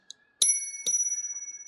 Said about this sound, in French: on a une vraie sonnette